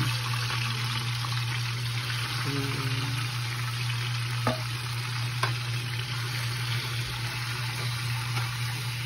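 Chicken frying in a pan, a steady loud sizzle and crackle with occasional stirring scrapes, continuous throughout.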